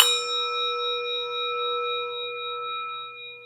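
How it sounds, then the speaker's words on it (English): A temple bell at a Buddhist Sunday service is struck once, a sharp clang that gives way to a long, clear ringing tone slowly fading over several seconds, alone in a quiet room. "The sound of the temple bell booms for all to cease from conflict."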